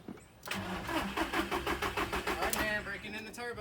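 A boosted Audi TT with a new turbo cranks with a rhythmic starter chug, then fires and settles into a rough, pulsing idle close by, with a voice talking over it.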